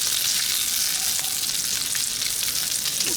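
Frosted Flakes French toast fries on a Blackstone griddle, giving a loud, steady, close hiss of sizzling batter that continues without a break and with no voices.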